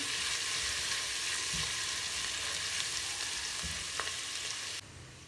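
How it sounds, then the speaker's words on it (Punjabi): Onions frying for mutton curry in a pressure cooker: dense, even sizzle with a few soft stirring knocks, dropping suddenly quieter just before the end, no talking. "ਇਹਨੂੰ ਅਸੀਂ ਚੰਗੀ ਤਰ੍ਹਾਂ ਜਿਹੜਾ ਹੈ ਭੁੰਨਣਾ ਪਿਆਜ਼ਾਂ ਨੂੰ"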